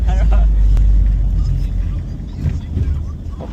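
Ford Everest engine with turbo running on a road test, a loud low rumble that eases and swells again, with voices talking over it.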